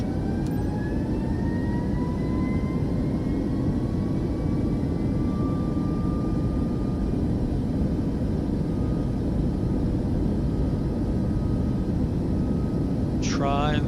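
Boeing 737 jet engines spooling up on a runway in a flight simulator, a dense steady roar with a slowly rising whine, loud and continuous.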